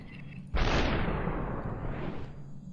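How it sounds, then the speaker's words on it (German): A single loud gunshot blast in the video game SuperHot, bursting suddenly and rolling into a long sweeping whoosh-like decay that fades over a couple of seconds, with no voices. "Da ist sein Schuss."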